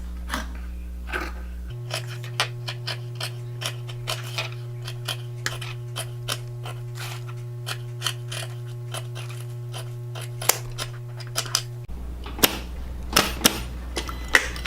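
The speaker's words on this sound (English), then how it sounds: "We're doing the applique around each one of the flowers as best we can with a straight stitch machine" A straight stitch sewing machine appliqués lace flowers on a gown bodice, its motor humming steadily under a regular, rapid ticking of the needle, with short stops and restarts at either end.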